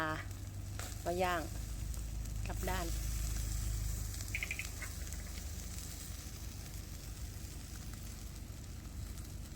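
Marinated pork ribs sizzle on a grill as they are turned, making a low, continuous crackling hiss with a few bird-like chirps early on. A voice is heard briefly.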